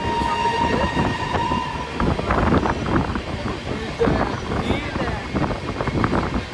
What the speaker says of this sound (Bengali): সাবরুম শিয়ালদা কাঞ্চনজঙ্ঘা এক্সপ্রেস।